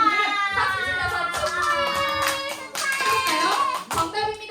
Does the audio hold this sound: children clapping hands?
yes